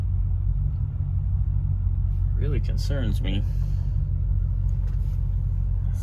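A 1969 Ford Country Squire station wagon idles with a steady low rumble throughout, while someone speaks briefly over the engine.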